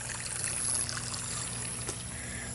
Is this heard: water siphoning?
yes